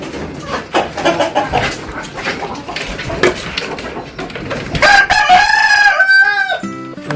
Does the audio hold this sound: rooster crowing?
yes